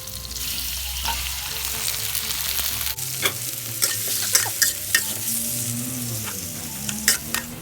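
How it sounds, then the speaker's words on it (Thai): Squid and shrimp fry in hot oil with garlic and chili, a steady close sizzle broken by scraping stirs and clinks of the utensil against the pan. "มันร้อนแล้ว ให้ใส่กระเทียมและพริกนะคะ ก็ได้กลิ่นหอมของกระเทียมแล้วให้ใส่ ปลาหมึกและกุ้งลงไปค่ะ"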